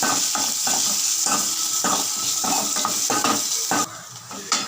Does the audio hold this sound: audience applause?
no